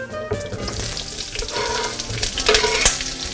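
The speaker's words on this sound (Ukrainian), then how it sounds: "тепер ми у сковорідку переливаємо олію. Сюди ми перекладаємо підготовлену капусту" Prepared cabbage fries in oil in a frying pan, a close, steady sizzle with bursts of crackling and the clatter of the pan as it is stirred.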